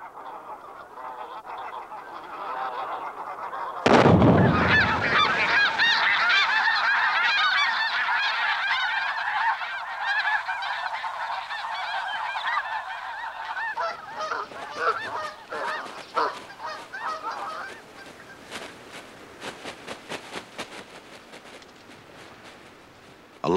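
A dense flock of geese honking continuously on a slough, many overlapping calls close by, with a loud thump near the start and wing flapping and splashing later on.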